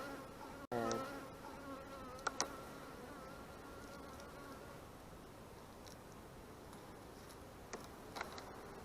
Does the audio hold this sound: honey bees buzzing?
yes